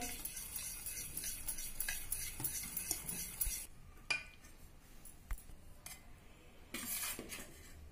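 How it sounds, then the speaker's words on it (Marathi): A spoon stirs sifted dry flour mixture into eggless chocolate cake batter in a bowl, giving soft, repeated scraping and clinking strokes close by, with a quieter pause in the middle. "थोडं थोडं घालून मिक्स करूया"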